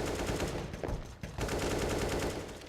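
Rapid gunfire from a CS:GO match, a wall bang fired through a wall down a hallway, rattling as a dense continuous burst of shots with a brief gap midway, loud and close throughout.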